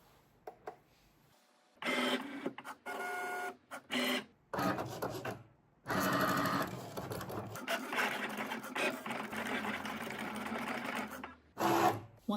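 A Cricut cutting machine runs at close range, loading a vinyl-and-iron-on project on its mat, with bursts of mechanical whirring and buzzing separated by short pauses, then a longer sustained stretch of motor noise; no one speaks.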